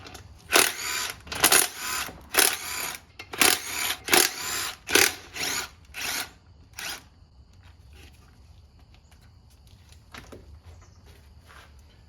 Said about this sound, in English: you're going to take the 6 bolts off that hold the guide sleeve, input shaft, bearing, retainer out